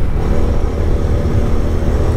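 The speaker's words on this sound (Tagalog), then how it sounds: "May maharurot na big bike guys." A big motorcycle revs loudly on a dark road on the way to Kaybiang Tunnel, a steady close engine roar that fills the whole moment.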